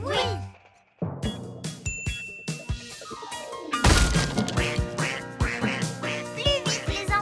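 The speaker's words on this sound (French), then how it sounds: "Par ici, bébé canard." Cartoon ducklings quacking in a French children's animated show, a busy run of bright, repeated quacks mixed with dings, crashes and other comic sound effects, with voices at times.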